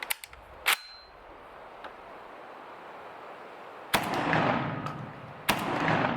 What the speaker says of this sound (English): up next we've got some Winchester Dry Lock Super Steel, 12 gauge, 2 3/4 inch, 1 1/8 ounce, number 2 steel shot